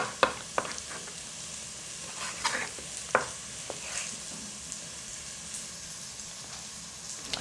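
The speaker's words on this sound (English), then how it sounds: "keep an eye on your onions. They're sizzling away." Soft, steady sizzle of onions frying in a pan, with scattered light clicks and taps of stirring over the crackling hiss.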